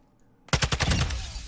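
Automatic gunfire in Call of Duty DMZ bursts in suddenly after a quiet lead-in, a rapid string of close, loud shots that run together into a sustained rattling roar.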